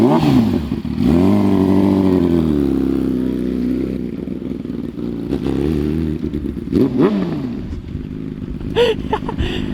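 A Yamaha R6 sport motorcycle pulling away, its engine revving loudly up and down through rising and falling pitches close by, then fading into the distance as a voice speaks briefly near the end.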